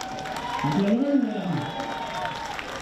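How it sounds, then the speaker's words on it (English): Baseball crowd at a CNMI versus Palau game applauding a veteran pitcher entering, a distant, diffuse wash of clapping and cheers beneath an announcer's amplified voice. "Big time, a big round of applause."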